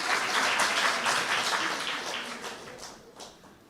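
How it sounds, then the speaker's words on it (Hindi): An audience at a Brahma Kumaris spiritual talk claps in a thick, fast burst of applause that slowly thins and fades toward the end. "बजाओ ना ताली, अच्छी तरह से बजाओ ना।"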